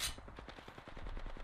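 Rapid bursts of gunfire from another team in a battle royale video game, a run of sharp, evenly spaced shots sounding at moderate distance with no talk over them.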